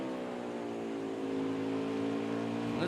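Race car engine at full song on the track during a 250 stock car race at Bristol Motor Speedway, a steady, loud, continuous high-revving drone with harmonic whine that rises slightly near the end, no talk over it.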